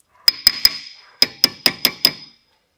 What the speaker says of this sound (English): Yes, everything is a hammer.